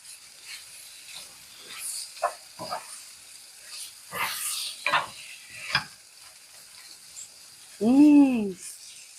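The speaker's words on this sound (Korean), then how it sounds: "이렇게 짜글짜글할 때 양념이 타기 전에 얘를 이렇게 볶는다는 느낌으로" Spicy anchovies stir-fried in bubbling buldak-style hot sauce, with intermittent scraping stir strokes over a light sizzle and a brief louder squeaky tone near the end.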